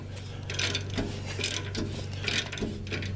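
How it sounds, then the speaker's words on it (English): Ratchet turning out rear brake caliper bracket bolts on a 2005 Toyota Sienna AWD, a close, repeated mechanical clicking in uneven bursts over a steady low hum. "now we're just gonna turn these bolts out that hold this on"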